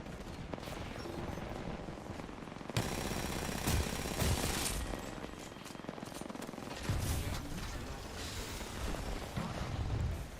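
Dense gunfire in the Apex Legends shooter, rapid bursts of automatic shots rattling almost nonstop, loud and close, with a sharp jump in intensity early on and no talking over it.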